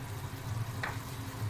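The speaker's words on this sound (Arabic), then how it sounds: "حطيت مكعبين زبده وشويه زيت ذره، وابتديت اشوحه كده" Butter and corn oil sautéing in a pan, a soft steady sizzle with a low hum underneath and one brief brighter crackle midway, no voices.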